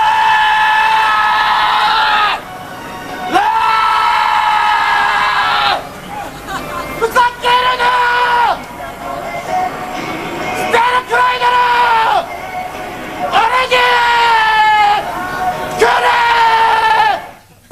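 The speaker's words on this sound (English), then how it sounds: "the Japanese Shouting Championships from Osaka" Competitors bellow long, strained shouts one after another at the Japanese Shouting Championships in Osaka, each loud yell broken by short pauses.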